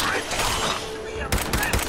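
Rapid gunfire bursts in the video game Fallout 4, dense and loud, with a sharper volley near the end, mixed with game sound and voices.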